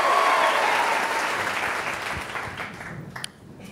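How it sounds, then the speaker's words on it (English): Congregation at a summer revival church service giving a hearty round of hand clapping, dense applause that gradually thins and tapers off. "Give the Lord another great hand clap."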